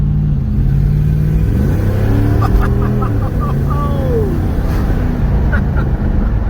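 A 1991 Camaro Z28 with a V8 and automatic transmission accelerates loudly and close by, its engine note rising, dropping at a gear shift around the midpoint, then climbing again.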